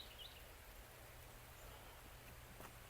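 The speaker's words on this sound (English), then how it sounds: "I don't know if you can hear, it just started raining, a lot of tree cover here" Rain falls on dense tree cover outdoors, a faint, steady hiss of drops pattering on leaves, with a low background hum throughout.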